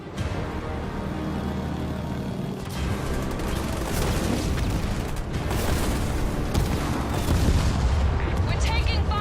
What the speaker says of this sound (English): The Banished have sent in artillery.